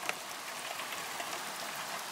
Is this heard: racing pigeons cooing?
no